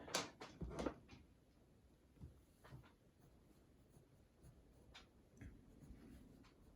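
A graphite pencil scratches across paper in short, quiet strokes and taps while drawing a face's eye, close and soft with pauses between marks.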